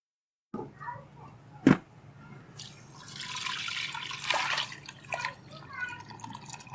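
Goat trotter broth (yakhni) for handi mutton paya is poured through a strainer to remove whole garam masala, giving a close liquid pouring and dripping sound with a sharp clink near the start and soft splashes that continue throughout.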